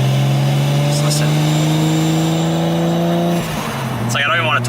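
A widebody Toyota Supra Mark IV sits close by, its engine holding a loud, steady drone before the tone shifts near the end, with voices briefly heard over it.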